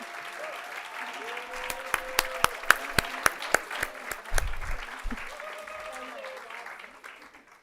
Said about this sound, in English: Let's give them a huge round of applause once again.